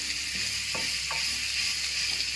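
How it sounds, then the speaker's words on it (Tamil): Sautéing and stirring in a pan while cooking karunai kilangu (elephant foot yam) for a tamarind kuzhambu: a steady broad hiss throughout, with a few soft scraping strokes of a spoon against the pan. No talking. "இந்த மாதிரி வதக்கு வதக்கணும் நல்லா வதக்கணும்"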